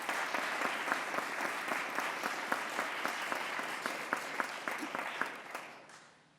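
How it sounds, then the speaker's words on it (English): An audience at a state government bill-signing event claps briskly and steadily, individual claps distinct within the dense applause, which fades out at the end. "Let's give them a round of applause"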